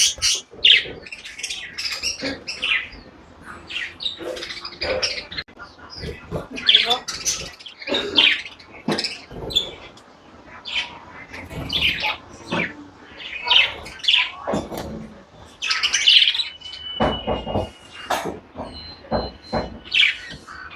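Many birds chirp and squawk close by in busy, overlapping bursts, with sharp high calls scattered throughout.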